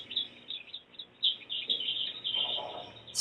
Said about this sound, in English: we don't want to spook this little finch mom bird